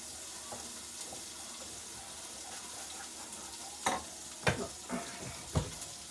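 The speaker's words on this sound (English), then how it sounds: "So we're going to melt this butter down." Butter melting down in a pan for a quick noodle dinner gives a steady, hissing sizzle that stays even throughout, with a few sharper clacks of a utensil near the end and no voices.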